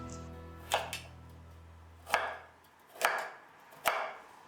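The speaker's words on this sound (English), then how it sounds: "Now I'm gonna roll cut like this" Knife roll-cutting burdock root on a cutting board in a home kitchen: four sharp, distinct chops spaced unevenly over a few seconds, close and fairly loud, with a low background hum and no talking.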